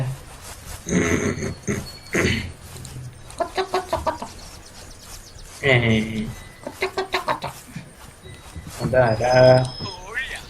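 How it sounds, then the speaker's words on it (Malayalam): Chicken clucking in short rhythmic bursts, mixed with people talking nearby. "കോഴി."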